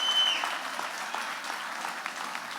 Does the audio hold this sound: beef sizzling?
no